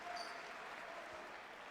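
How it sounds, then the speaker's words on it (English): A basketball arena crowd applauds steadily as a player fouls out and leaves the court, a dense, even wash of clapping with no break. "Off he goes, gets his applause."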